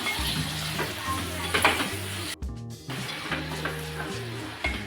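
Cleaned rock oysters frying in a hot pan and being mixed, a continuous close sizzle with scraping stirs and a brief clatter of a pan or utensil midway, no voices.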